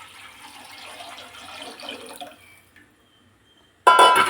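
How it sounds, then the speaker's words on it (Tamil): Water is poured into a pot while making drumstick leaf soup, a splashing trickle that runs for a couple of seconds and tapers off, then a sudden louder clatter near the end, with no talking. "இந்த தண்ணி எடுத்ததில் ஊற்றிடலாம்."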